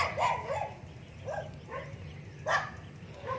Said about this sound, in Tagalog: Hindi ako kilala ng aso kaya ang lakas ng kahol niya.